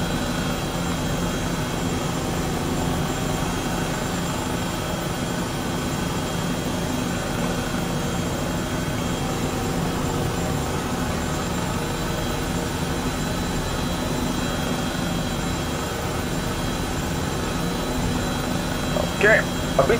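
Medical air-ambulance helicopter landing in Microsoft Flight Simulator VR, a steady, droning rotor and turbine hum that holds loud and even throughout, with faint voices underneath and a couple of small clicks near the end.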